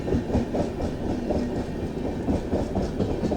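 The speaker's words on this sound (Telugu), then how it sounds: "ట్రైన్ మెల్లగా వెళ్తుందండి బాబు" Ratnachal Express passenger train rolling slowly, heard from inside a carriage: a loud continuous low rumble with rhythmic wheel thumps and clatter throughout.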